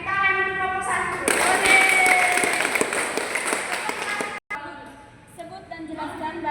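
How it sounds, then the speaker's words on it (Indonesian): A school class breaks into applause for an answer, a burst of clapping from many children that fades after a few seconds, with a teacher's voice speaking before and after. "tepuk tangan untuk nomor 1"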